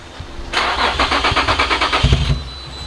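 A Nissan 350Z engine with no air filter cranks over with a fast, rhythmic starter chug for about two seconds but doesn't catch, heard close and loud before it falls back to quiet.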